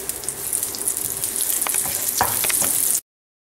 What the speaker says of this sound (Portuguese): os 3 dentes de alho. Vamos fritar um pouquinho